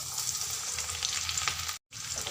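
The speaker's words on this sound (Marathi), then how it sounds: "तेल गरम झालेलं आहे जिरे टाकते मी अर्धा चमचा" Cumin seeds and garlic frying in hot oil in a pan, a dense, even sizzle close by that carries on steadily, cut by one brief moment of silence near the end.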